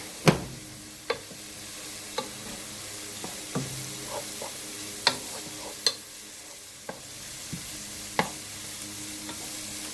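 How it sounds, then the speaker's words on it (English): Spicy jerk BBQ chickpeas with onions sauté in a pot under a soft, steady sizzle, punctuated by sharp spoon taps and scrapes against the pot at irregular intervals. "Saute down for about a minute or two."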